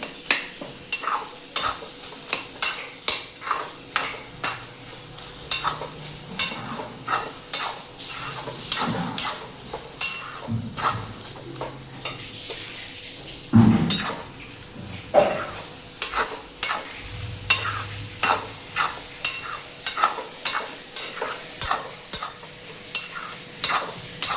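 A spoon stirs ghee and garam masala through a frying pan, scraping in a steady rhythmic series of clinks and scrapes over a soft, continuous sizzle, close and alone with no voices.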